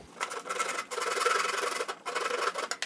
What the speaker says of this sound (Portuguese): uma arredondada de leve aqui com a grosa e desse lado aqui